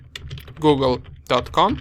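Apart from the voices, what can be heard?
typing ping command on computer keyboard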